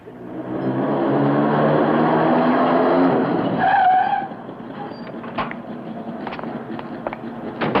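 A car drives fast and skids, engine roar building for about four seconds ending in a short tire squeal, then fading to quieter background with faint knocks.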